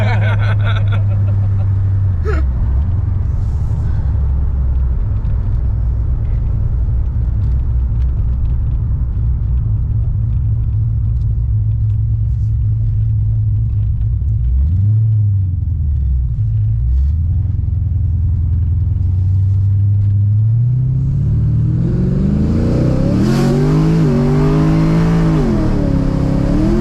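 Pontiac GTO with racing springs in the back accelerating hard through the gears, a loud continuous engine roar that holds steady, then climbs and wavers as revs rise toward the end.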